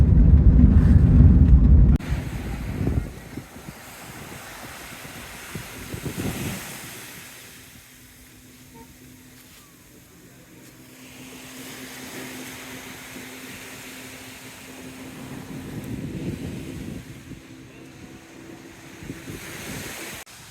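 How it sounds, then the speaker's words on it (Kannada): Surf and wind at White Sand Beach on Nusa Penida, Bali. Loud buffeting wind hits the microphone at first, then waves wash in and out steadily with no voices. "ವೈಟ್ ಸ್ಯಾಂಡ್ ಬೀಚ್, ಇಲ್ಲಿ ಬೀಚ್ಗಳೆಲ್ಲ ಚಲೋ ಇದಾವ"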